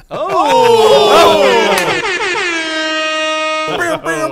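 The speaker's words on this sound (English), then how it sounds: "Another solid hour of air horns." A long, loud air horn blares with a sustained harmonic tone, then cuts off briefly before another short blast near the end.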